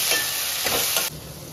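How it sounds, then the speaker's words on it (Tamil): Onions and tomatoes fry in a pan for a chutney, giving a steady close sizzle and hiss with a soft stir, with the sound dropping slightly near the end. "தக்காளி நல்லா வதங்கட்டும்"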